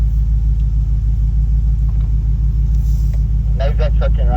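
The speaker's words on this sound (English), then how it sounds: "Nose that truck in right here, Ray." A truck engine idles with a steady low rumble as it is nosed slowly into a mountain camping spot in North Carolina, with faint voices guiding the driver under the drone.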